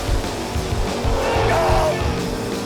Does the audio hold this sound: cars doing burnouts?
yes